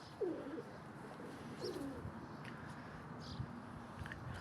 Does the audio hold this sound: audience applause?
no